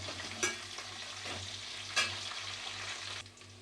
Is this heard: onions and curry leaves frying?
yes